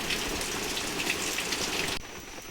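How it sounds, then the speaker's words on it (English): Heavy rain falls hard and loud outside an open window, a steady dense wash of drops that drops off abruptly near the end as the window shuts. "It's starting to rain kind of hard, loud"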